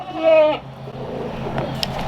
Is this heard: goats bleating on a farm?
yes